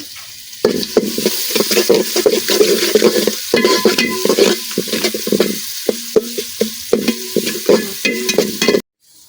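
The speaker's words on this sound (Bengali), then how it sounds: "পেঁয়াজটা হালকা ভাজা হয়ে গেছে" Onions frying in oil in a pan in a village kitchen with garam masala added, a loud steady sizzle broken by repeated scraping stirs of a spoon against the pan, then a sudden stop at the end.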